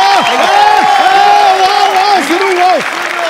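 A television comedy show's studio audience applauds and cheers for a singer, a brief dense patter of clapping heard under a prominent voice speaking over it.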